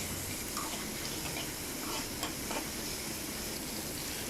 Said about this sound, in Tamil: ஒரு பேன் வச்சு அதில் கொஞ்சம் ஆயில் போட்டு ஆனியன் போட்டு நல்லா ஃப்ரை